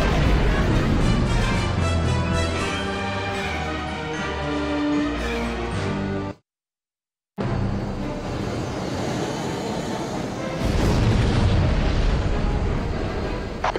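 Rumbling explosions in the video game Star Wars Jedi Starfighter as a bomb hits a weapons core and a chain reaction spreads. The blasts are loud and dense, with a brief total dropout midway, then sustained booming.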